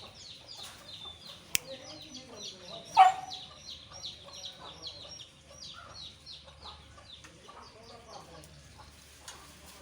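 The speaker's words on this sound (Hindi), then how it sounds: "अब ये जैसे एक छोटा बच्चा है गोल्डन हैवी बफ का, ये इंक्यूबेटर से हमने निकाला था" A three-month-old Golden Heavy Buff chick, incubator-hatched, gives soft repeated clucks and peeps with one louder call, among other poultry on a farm, at moderate distance.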